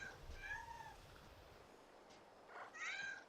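Cats in a video game meow a few times, with several short, high, clear meows spread across the clip and a louder, drawn-out one at the end.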